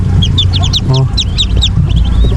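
Backyard farm hens cluck and chirp close by in quick repeated bursts over a loud, rumbling background, with one lower call in the middle.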